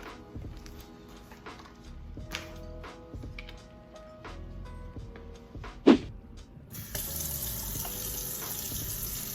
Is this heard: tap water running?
yes